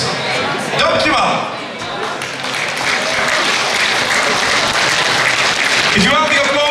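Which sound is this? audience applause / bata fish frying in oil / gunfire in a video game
audience applause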